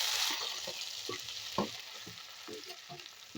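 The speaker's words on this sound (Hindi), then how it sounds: "अब ये जो मटर लिए थे, अब इसको हम भून लेते हैं।" Green peas roasting in a pan for matar nimona (pea curry). A hiss of frying runs under irregular stirring scrapes, with one sharper knock of the utensil, and no speech.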